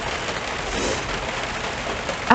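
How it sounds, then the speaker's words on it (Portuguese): Heavy rain pours down outdoors in a steady, dense hiss that stays loud and continuous the whole time, with no voices. "hoje, como tá chovendo muito"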